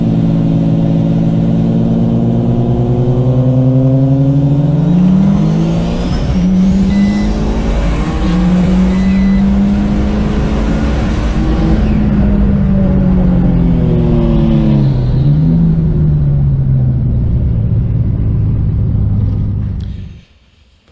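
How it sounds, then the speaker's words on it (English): A V6 turbo Ecojet at a roll racing event in Perth, engine roaring close and loud as it accelerates, pitch climbing through gear changes and dipping between shifts as the turbo comes on boost, continuous for about twenty seconds before cutting off. "Exactly when he changes gear and when you hear me come on gate."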